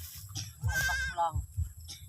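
Several goats bleat on a Philippine farm in Oriental Mindoro, wavering calls rising and falling in two or three bursts, fairly close over a low rumble of background activity.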